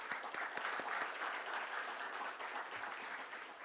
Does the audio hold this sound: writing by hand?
no